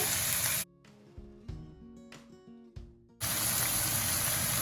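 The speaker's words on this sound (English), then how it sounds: "Add some water." Water poured into a hot pan of frying chayote melon with garlic, a loud broad gush and sizzle at the start and again at the end, separated by a quieter stretch with tonal clatter.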